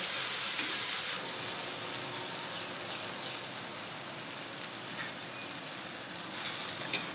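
Crumbled leftover chapati is stirred into fried onions and tomatoes in a pan. A loud hissing burst opens, then settles into a continuous, rain-like sizzle with faint scrapes, and no voices.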